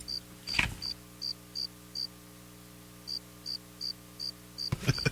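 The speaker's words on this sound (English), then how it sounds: "I'm laughing how the crickets picked up." Crickets chirp in a steady train of evenly spaced, high pulsed trills over a low steady hum, with a short pause midway and a sharp bump at either end.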